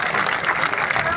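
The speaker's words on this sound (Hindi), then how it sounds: "एक बार जोरदार ताली" A rally crowd at Jantar Mantar in Delhi breaks into loud, dense applause, a steady wash of clapping filling the whole moment with some crowd noise mixed in.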